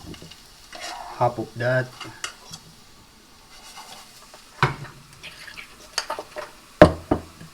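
Already cooked potato stirred and frying in a pan, with soft sizzling and scraping strokes in irregular bursts, a few sharper utensil clatters near the end, and brief talk early on.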